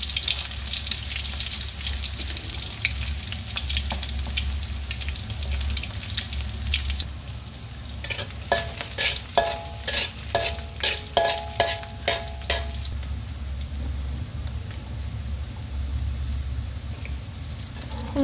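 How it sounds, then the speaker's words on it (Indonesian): Shallots and garlic stir-frying in oil in a wok, a constant sizzle with a low hum beneath and a burst of rapid spatula clatter against the pan partway through. "kita siapkan wajan yang kasih minyak bersih, lalu kita tumis bumbunya, yaitu bawang merah, juga bawang putih"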